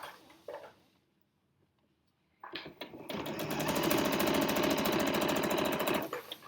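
A sewing machine stitches binding onto a quilt, starting after a few quiet taps and running as a fast, steady, close mechanical whir and rattle for several seconds before stopping.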